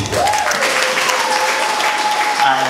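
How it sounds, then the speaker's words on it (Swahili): Church congregation applauding, a dense, loud, continuous clapping close by, with voices and a sustained tone mixed in. "Hebu mpeni Yesu makofi"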